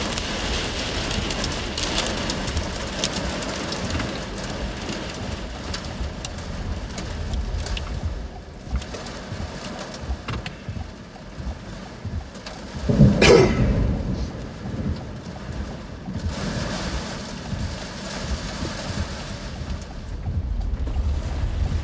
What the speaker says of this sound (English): Major wind here.